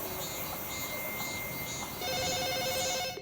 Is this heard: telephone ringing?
yes